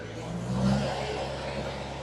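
A Spartan VM1000 brush cutter engine holds a steady mid-pitched drone, rising slightly in revs for a moment before settling, with a continuous close whir throughout.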